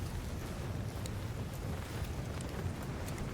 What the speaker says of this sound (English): We gotta get out of the wind, bro.